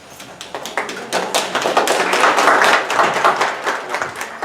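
Applause at a staff meeting, starting as scattered individual claps and building into dense, steady clapping from a roomful of people, close and fairly loud, with no talk.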